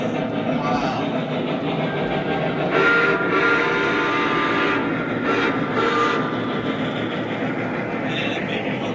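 A Southern Pacific train approaches and rolls past a crossing, a steady loud rumble with rising clatter and a brief horn-like tone, while people talk excitedly over it.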